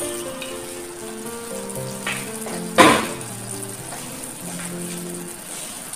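Creamy penne pasta sauce with sardines simmers and sizzles steadily in a pan, with a soft bubbling hiss throughout and a brief louder clatter near the middle, close and moderately loud.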